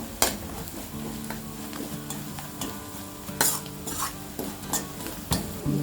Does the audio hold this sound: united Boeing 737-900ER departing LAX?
no